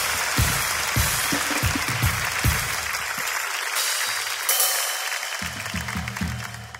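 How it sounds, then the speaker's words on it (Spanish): Studio audience applauding at the close of a comedy talk show's final season episode, a broad wash of clapping with low thumps underneath that thins briefly midway before swelling again. "Un fuerte aplauso para Isan Alcázar."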